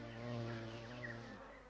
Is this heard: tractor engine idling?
no